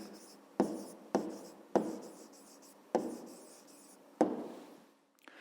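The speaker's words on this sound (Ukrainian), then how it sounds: "Записуємо тоді відповідь. Пишемо 200 теплиць." A pen scratches out an answer by hand on paper during a fifth-grade maths exercise, with several separate strokes starting sharply and trailing off, close and clear, with no talk.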